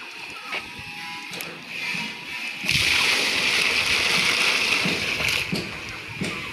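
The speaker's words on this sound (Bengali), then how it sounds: "বালতিতে ভরে দাও।" Water pours and splashes steadily into buckets being filled, close and loud, swelling into a stronger continuous gush partway through.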